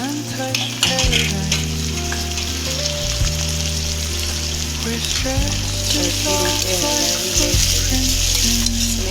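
Onions, potatoes and tomatoes fry in a pan for pava bateka, producing a loud, close, continuous sizzle with stirring scrapes over a low steady hum.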